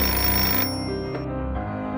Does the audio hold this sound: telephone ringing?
yes